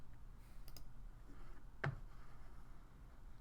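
A single short computer mouse click, faint and close, standing alone against a quiet background hum.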